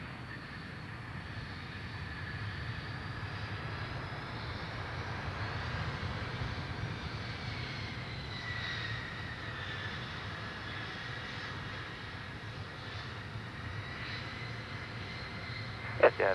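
Jet airliner engines on the runway at Perth airport, a distant, steady roar with a faint rising whine, continuous and fairly quiet throughout.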